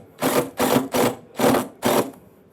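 A power driver sinks a color-matched Trex composite deck screw into scalloped composite decking, heard as five loud, evenly spaced bursts of whirring and grinding, each about a third of a second, close up with no talking.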